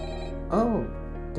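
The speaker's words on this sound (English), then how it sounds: "Oh, the phone is ringing." A telephone rings inside a Minecraft version of the FNAF horror game, a single loud electronic ring with a warbling tone rising briefly over a steady game hum.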